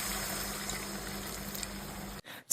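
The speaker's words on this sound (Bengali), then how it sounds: "এবার জল দিয়ে দিই" Water poured into chicken liver and stomach masala in a pan, a steady soft wash of pouring and bubbling for about two seconds, then a brief gap and a loud bump at the end.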